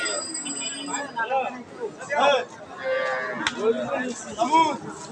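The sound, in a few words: dairy cow with calf at market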